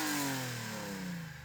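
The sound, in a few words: BMW M3 E30 engine revving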